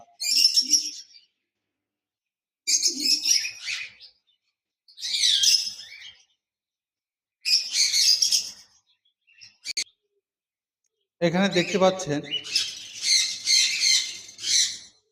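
Tame baby albino red-eye cockatiels give harsh, squawking calls in separate bursts with pauses between them, close to the listener. A voice speaks over the final stretch.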